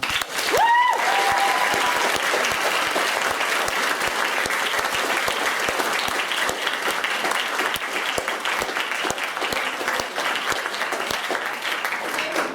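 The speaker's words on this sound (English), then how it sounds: "So a round of applause for them." Theatre audience applauds the cast of a Shakespeare production, a loud, sustained crowd of clapping with a brief whistle near the start, continuing evenly to the end.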